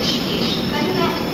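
Steady rumble and rattle inside a moving passenger train, with continuous wheel and carriage noise and faint voices underneath.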